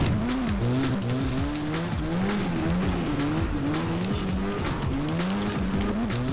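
Yamaha motorcycle engine in a racing video game, a steady loud whine rising and falling through gear changes with tire squeal mixed in, continuous throughout.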